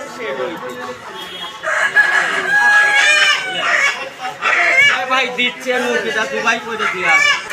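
Chickens cluck and crow close by at a poultry stall in a rural weekly market in Natore, with people talking over the birds throughout.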